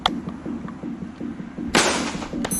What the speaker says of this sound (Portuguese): Vamos começar pela primeira salva de tiros.